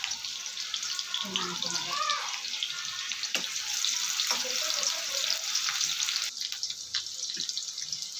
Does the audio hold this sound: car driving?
no